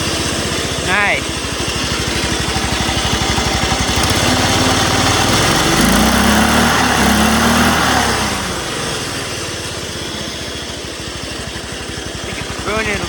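A homemade racing lawn mower engine is revved hard and close. Its buzzing idle rises into a loud, climbing rev for a few seconds and then drops back, with voices talking over it.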